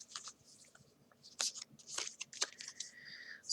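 Tarot cards shuffled by hand, soft quick riffles and flicks in irregular bursts, close and quiet, with no voices.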